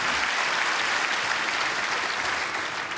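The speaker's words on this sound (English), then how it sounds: "they deserve a round of applause" An award ceremony audience gives a steady round of applause, dense and even throughout a few seconds, with no voices standing out.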